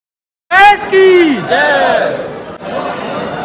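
A crowd at Khatu Shyam temple in Rajasthan sends up a loud collective shout and chanting that swells suddenly, then settles into a sustained murmur of voices.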